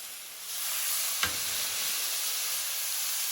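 A big piece of beef sears in a hot pan, giving a steady broadband sizzle and hiss that swells slightly after the start, with one brief sharp tap partway through, close and alone.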